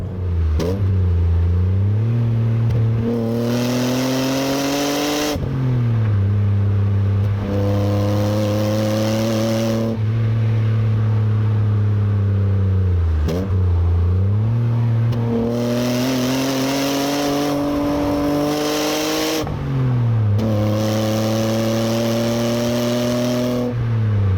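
A 1995 Alfa Romeo 164 QV engine revs up through gears while driving, rising and dropping in pitch repeatedly, loud and close from inside the car.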